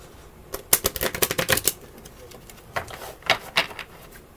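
Quick bursts of tarot card shuffling, a rapid flurry of crisp riffling clicks, a pause, then a shorter second burst, close and fairly clear.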